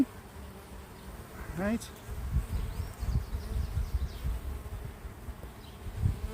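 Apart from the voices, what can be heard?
honeybees buzzing during urban beehive inspection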